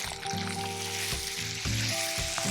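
Onions, green chilies, spices and salt sizzle and fry steadily in a hot pan for pointed gourd masala, a close, continuous crackle with a faint tonal hum underneath and no speech.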